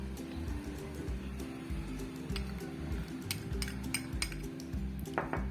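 Spoon scrapes and clinks against a bowl as gram flour is added while making green peas kebab, quick light metallic taps and rustles over a low background hum, fairly faint.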